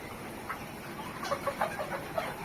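Chickens in a poultry farm on a hot day give a run of soft, quick clucks, moderately close, over a steady low hum of farm background noise.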